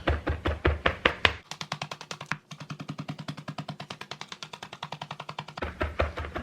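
A kitchen knife chops food on a cutting board in fast, even, rhythmic strokes, with a brief pause partway before the steady chopping resumes, close and loud.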